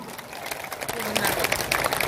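A crowd at a BJP rally in Lakhimpur claps for the candidate Pradhan Baruah, a dense, even wash of applause while someone speaks loudly over it.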